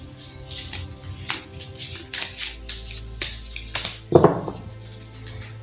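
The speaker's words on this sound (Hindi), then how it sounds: "चलिए पहले ज़रा मैं कार्ड्स को शफल कर लेती हूँ।" Tarot cards are shuffled by hand, producing soft, crisp rustles and quick snapping flicks in an irregular rhythm, with one louder riffle toward the end.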